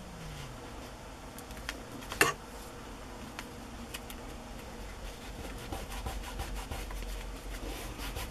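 Paper being rubbed by hand to press a glued pocket flat on a cookbook journal page, a soft continuous close scratching friction with one sharper scrape near the start.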